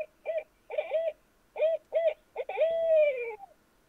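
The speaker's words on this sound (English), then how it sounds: "It's an owl." An owl hoots in a spring setting: a string of short, clear hoots in uneven pairs, then one longer call that slides downward and trails off. Close and distinct, with no talking.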